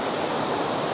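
Water rushes steadily at the Wulai waterfall area in Taiwan, a loud, continuous broadband roar close by with no breaks or voices.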